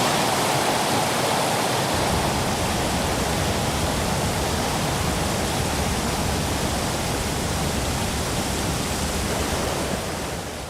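Heavy wet-season rain pours down in Panama, a dense, even roar of falling water that starts slightly thinner then fills out into a loud, unbroken hiss lasting throughout, with no voices.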